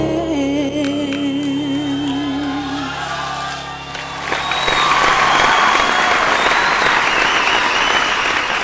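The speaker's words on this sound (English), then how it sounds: "another big round of applause to our final four" An audience at a singing competition grand final applauds, with the clapping swelling into a loud, sustained ovation after music fades out underneath it.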